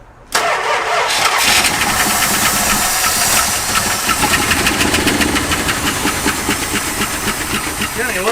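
Big block Chrysler engine starting after 35 years of sitting: a quiet moment, then a sudden loud catch into a rough, hissing, steady idle that carries on close up for several seconds.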